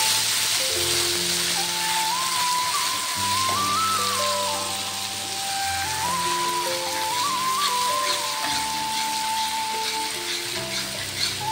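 Mustard paste hits hot oil for a quick Bengali mustard dish, giving a steady, close crackling sizzle that lasts throughout, layered under a melodic background music track.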